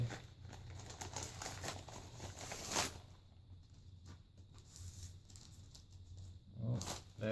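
Individually wrapped patches are unwrapped from plastic packaging, giving faint, close crinkling and tearing rustles that are busiest at the start and then thin to sparse small crackles in a quiet room.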